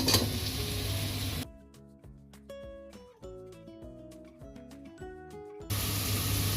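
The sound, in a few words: cube-cut capsicum added to hot pan, sizzling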